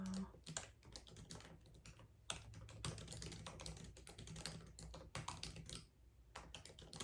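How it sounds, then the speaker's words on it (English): Quick, irregular keystrokes on a computer keyboard, close and fairly quiet, clicking in bursts with short pauses between them as a note is typed. "And then I'm going to type a note"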